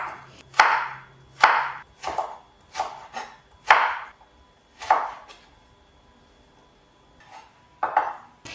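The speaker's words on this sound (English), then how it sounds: "I chop the aubergine into small squares" Sharp knife strokes chop an aubergine into small squares on a board, roughly one crisp thud per second with brief pauses, close and clear with no talk.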